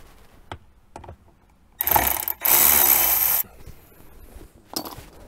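A ratcheting driver backs out dashboard screws on a Jeep Wrangler JK, with a few light clicks, then two loud close bursts of rapid ratchet whirring, followed by a final short rattle.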